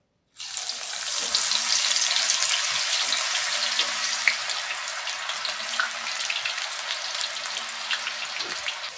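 Eggplant sizzles in hot oil with a continuous, even hiss and faint crackling, broken now and then by soft clinks.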